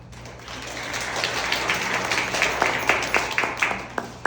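An audience applauding a speaker at a marketing event, a steady wash of many hands clapping that grows stronger, with a few sharp individual claps standing out near the end.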